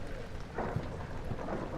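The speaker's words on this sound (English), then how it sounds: "It's raining. Raining always sounds so good." Steady rain with low rumbles of thunder in the horror game Amnesia: The Dark Descent, a continuous wash of downpour with soft rolling swells, no talk over it.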